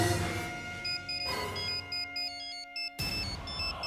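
An electronic phone ringtone plays a repeating melodic pattern of bright tones, fairly close and clear, with brief pauses between phrases.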